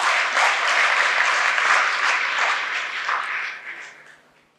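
An audience applauds steadily at a silver jubilee celebration of St. Joseph's church in Jadi Jamalpur, Hyderabad. The dense, continuous clapping holds strong for about three seconds, then thins and fades out.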